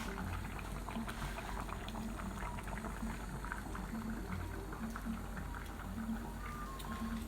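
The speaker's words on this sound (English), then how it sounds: "leave that to boil away" A pot of spaghetti and grated vegetables boils on the hob with a steady, faint bubbling and gentle ticking of rolling water, continuous and even throughout.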